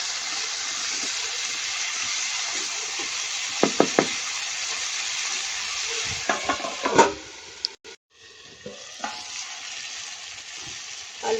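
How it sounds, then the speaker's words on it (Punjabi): Small baby potatoes roast in a covered pan with a steady, even sizzle, broken by a few clinks and scrapes of a utensil and lid partway through. "ਤੇ ਆਲੂਆਂ ਨੂੰ ਹੁਣ ਆਪਾਂ ਢੱਕ ਕੇ ਭੁੰਨਾਂਗੇ ਜਲਦੀ ਸੌਫਟ ਹੋ ਜਾਣਗੇ"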